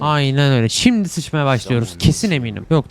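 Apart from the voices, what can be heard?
No everyday noise stands out behind the speech.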